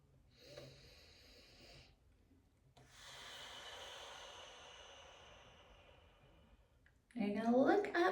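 Slow deliberate breathing, an inhale through the nose followed by a long airy exhale through the mouth, close and quiet, ending with a burst of louder sound.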